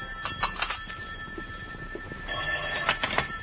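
An old-time radio drama telephone rings in two bursts of repeated rings separated by a short pause, fairly loud and alone with no talk.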